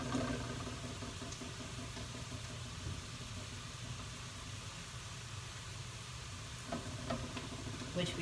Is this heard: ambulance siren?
no